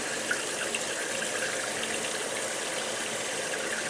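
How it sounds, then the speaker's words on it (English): Sauce is poured over turkey legs in a Ninja Foodi pressure cooker pot, a steady liquid stream splashing continuously at moderate level with no talking. "I'm going to take that sauce that we just made and we're going to pour it over"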